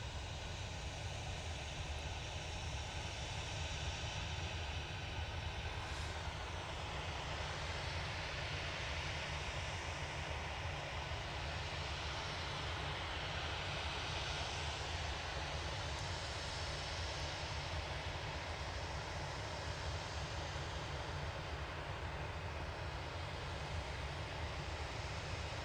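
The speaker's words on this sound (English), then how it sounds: "Ryanair 737-800 departing now." A Ryanair Boeing 737-800 departing Manchester Airport, a steady broad engine roar that holds at a constant level for the whole stretch, heard from some distance with no voices.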